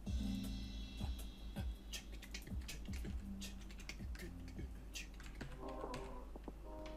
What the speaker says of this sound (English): You can use the up and down keyboard buttons to align it.